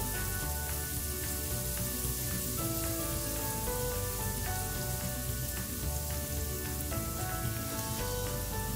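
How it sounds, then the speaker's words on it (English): Garlic sizzles steadily in a hot pan, a dense continuous crackle with many fine pops, close and fairly loud throughout with no talking. "Now while the garlic is cooking"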